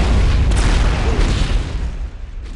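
A loud rocket blast from an arena shooter duel on the Aerowalk map, a heavy low boom that rumbles and slowly decays with no talk over it.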